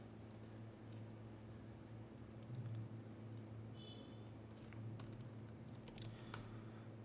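Quiet computer keyboard typing of a terminal command, soft scattered key clicks over a steady low electrical hum, no talking.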